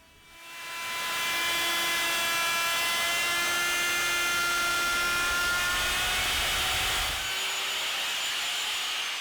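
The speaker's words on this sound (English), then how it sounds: "Then I'll use a flush cut bit in the router along with the pattern" Router fitted with a flush cut bit shaping a wooden farmhouse bench leg against a pattern: a loud, steady high whine that holds for about six seconds, then winds down.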